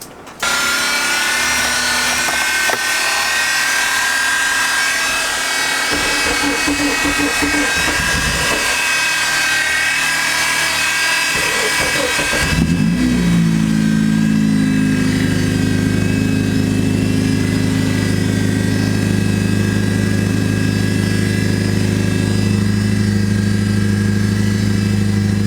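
A Honda Integra engine with a scraping fault cranks and fires, shifting halfway through into a loud, steady low rumble that holds near and constant.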